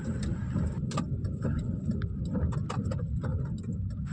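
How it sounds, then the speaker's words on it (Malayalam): Car rolling along a busy rural road on a rainy road trip from Kerala toward Palani, with a low steady engine and tyre rumble and scattered light clicks and taps over it. "മുന്നിൽ ഇഷ്ടംപോലെ വണ്ടിയുണ്ട് ഇപ്പം തിരക്കായി റോട്ടിൽ"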